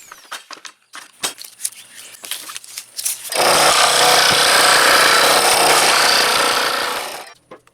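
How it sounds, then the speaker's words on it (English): A scroll saw cuts through a workpiece between two drilled holes, starting after a few scattered knocks and handling sounds and then droning steadily and loudly with a dense buzzing rasp for several seconds before stopping. "I'll connect those 2 holes with my scroll saw"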